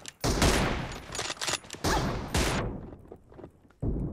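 Gunfire in the mobile battle royale game PUBG Mobile comes as loud, rapid bursts of automatic shots in several clusters, separated by short pauses and softer thuds.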